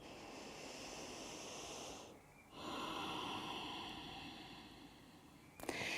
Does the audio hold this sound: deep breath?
yes